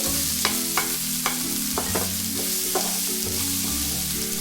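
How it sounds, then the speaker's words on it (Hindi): Finely chopped tomato sizzles steadily in a pan for rava idli masala, with a series of sharp scraping stir strokes close by and no talking. "अभी हमें टमाटर अच्छे से नरम होने तक इसे पकाना है"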